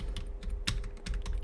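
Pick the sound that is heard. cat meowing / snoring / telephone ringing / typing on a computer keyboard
typing on a computer keyboard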